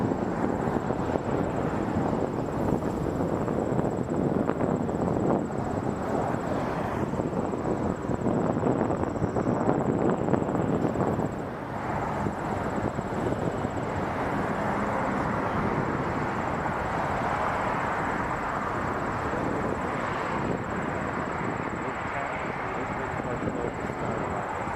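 Airplane taking off at Toronto Pearson Airport: a loud, sustained jet engine roar that swells and then fades into a broad hiss as the aircraft departs, with radio chatter mixed in.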